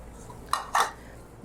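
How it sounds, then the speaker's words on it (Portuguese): A spoon or utensil stirs choux dough with flour in a cooking pot, producing two short scraping knocks against the metal, close and modest in level, followed by a quiet pause. "Mexe, continua mexendo até ela soltar do fundo da panela."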